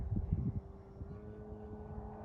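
Hangar 9 Cessna 182 RC model airplane with a 95-inch wingspan on its maiden flight, heard as a steady, distant engine drone with a brief burst of wind or handling noise at the start.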